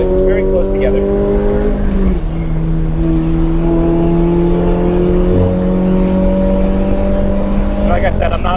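A Toyota GR86 runs on a race track with its engine kept below high revs, humming in steady tones that shift pitch with each gear change. The car sounds close and loud, and a voice talks faintly over it.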